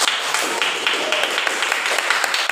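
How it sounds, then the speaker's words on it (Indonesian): Students clapping their hands together in a classroom, a dense, steady patter of many hands that carries on for a couple of seconds. "Tepuk tangan semuanya"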